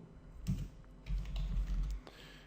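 Computer keyboard typing during HTML form coding in a PHP and MySQL lesson: two quick bursts of key taps, close and moderately loud, with a short pause between, no voices.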